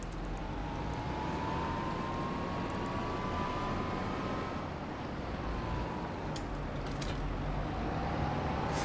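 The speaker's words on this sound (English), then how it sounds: "Big new tractor's going to start its new job." A big new tractor in a snowy farming video game runs with a steady low engine drone, its pitch slowly rising and falling, alongside broad wind-like hiss and a few faint clicks near the end, with no talking.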